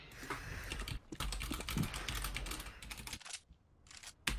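Rapid, hard typing on a computer keyboard during a Counter-Strike livestream match, dense clattering keystrokes close to the microphone with a brief pause near the end.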